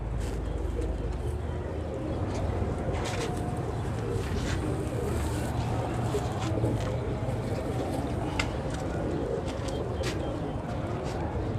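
Rampuri and Kasuri pigeons cooing in a dense, steady wash of background noise, soft low calls blending together throughout.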